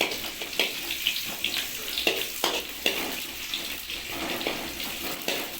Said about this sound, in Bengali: একটু পেঁয়াজটাকে হালকা নেড়ে নিতে হবে